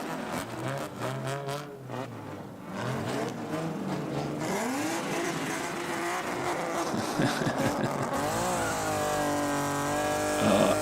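Toyota Mark II driving in a New Year parade in Japan, its engine revving and rising in pitch among other passing cars and crowd noise, fairly loud and close.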